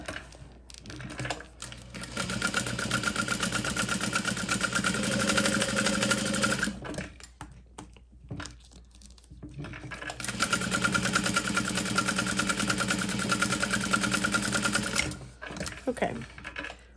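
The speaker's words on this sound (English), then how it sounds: "And then we're gonna top stitch these." A sewing machine runs top stitching on a handbag in two long bursts of steady whirring, separated by a short pause with soft handling noises, and a voice talks briefly near the start.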